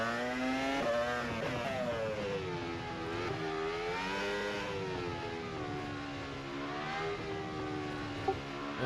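An F1 car engine in a racing sim at Baku screams at high revs and climbs in pitch with each upshift. It drops briefly at every gear change, and the whine stays loud and steady throughout with no voices.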